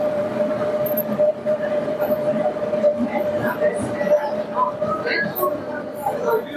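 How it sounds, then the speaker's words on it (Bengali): An Indian Railway train rumbles steadily at a station, a constant tonal hum riding over dense, close mechanical noise with faint scattered voices. "এটা হচ্ছে আমাদের ট্রেন।"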